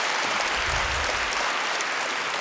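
A concert hall audience claps steadily in a dense, continuous wash of applause, loud and sustained for the whole moment with no pauses.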